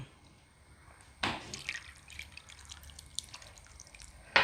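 Tamarind water is poured into a pot of papaya dal curry, giving quiet splashes and a soft liquid trickle with a couple of sharper drips, faint and close in a calm kitchen.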